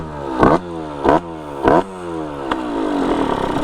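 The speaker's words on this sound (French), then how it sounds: "Donc je vais vous la démarrer, je vais vous faire écouter à peu près le bruit." DT kit 70 motorcycle with a cracked exhaust pipe starting up, three loud sputtering revs with rattling exhaust bursts, then settling into a steady, buzzy, raspy idle close by.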